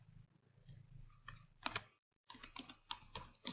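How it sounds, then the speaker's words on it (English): Quiet, close computer keyboard typing comes in short bursts of clicky keystrokes, with a brief silent gap before a faster run of keys. "so I'm going to type in"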